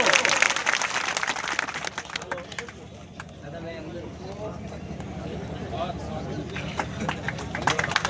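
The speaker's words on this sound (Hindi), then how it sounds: "जोरदार ताली से स्वागत करें।" A crowd at a BJP political rally in Banswara greets guests arriving on stage with loud, sustained clapping that swells at the start, eases, then rises again, mixed with murmuring voices over the full stretch.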